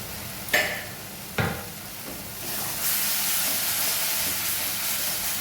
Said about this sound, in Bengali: ব্যাস এটা দিয়ে সুন্দর করে আর একটু সুন্দর করে কষে নেব